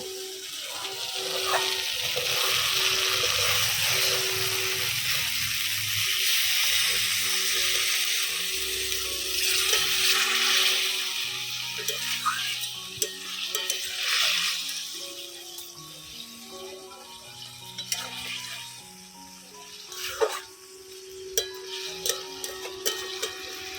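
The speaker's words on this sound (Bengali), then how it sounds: "মশলা ভাজা হয়ে গেছে সামান্য জল দিয়ে দিব ঢেঁড়স সেদ্ধর জন্য" Water splashed into a pan of fried spices to cook okra, a hissing, bubbling surge that gradually settles into quieter simmering and stirring, with background music throughout.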